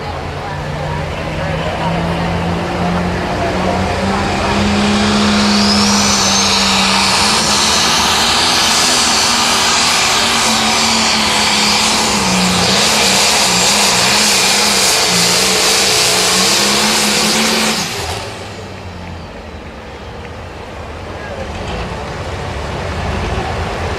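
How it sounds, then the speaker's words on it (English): Pro stock John Deere pulling tractor, the Shoot to Thrill, roars loudly through a pass at a Mound City pulling event, its engine pitch climbing and wavering before cutting off abruptly near the end, with an announcer talking over it. "Russell out of Maple Grove, Illinois, laying down a nice pass there with the Shoot to Thrill John Deere."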